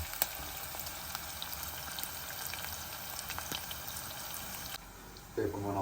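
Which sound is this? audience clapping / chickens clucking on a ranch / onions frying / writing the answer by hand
onions frying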